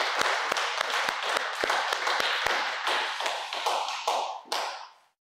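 A church congregation claps in praise during a year-end Sunday worship service, a run of sharp, hand-clap-like strikes that thins out toward the end, with no one speaking.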